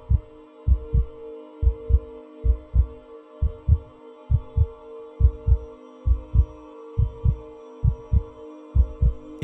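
Racing heartbeat sound effect: steady, quick paired lub-dub thumps repeating evenly throughout, loud and low over a faint background hum.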